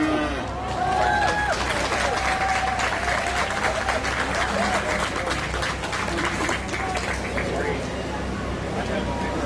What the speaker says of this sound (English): You give these kids another round of applause.